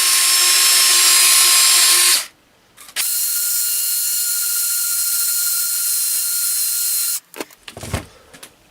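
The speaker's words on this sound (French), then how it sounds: "Vous prenez votre visseuse. Et vous allez venir donc nettoyer tout doucement en faisant des allers-retours." A cordless screwdriver spins a brush against a rusty chrome wheel rim, a loud whirring motor run that cuts out briefly, runs again at a steady whine, then stops, followed by a few clicks and rattles.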